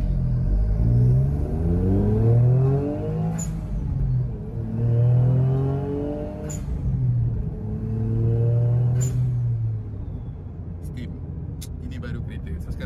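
A small Honda S660 engine with a new full exhaust piping system idles and revs in slow repeated swells, its exhaust note rising and falling with a throaty rumble, close by, with faint sharp clicks.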